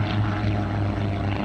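A racing propeller airplane at an air race roars past close and loud, its steady droning buzz filling the air before cutting off abruptly.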